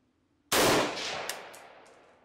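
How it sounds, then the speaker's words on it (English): A single loud rifle shot of 5.45 Hornady V-MAX ammunition fired for a velocity test, a sharp close blast followed by a long decaying echo with a couple of faint reflections. "let's go ahead and we'll do the velocity first, and then we'll start shooting into some gel"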